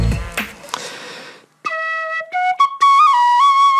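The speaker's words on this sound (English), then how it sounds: "I dabble a little bit on the tin whistle" A tin whistle plays a few short, clear, high notes that rise into a sustained tone, heard alone and close after a brief burst of muffled noise.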